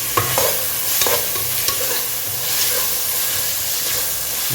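Ginger garlic paste sautéing in a pan, a continuous close hiss and sizzle with several sharp clinks and scrapes of stirring, no talking.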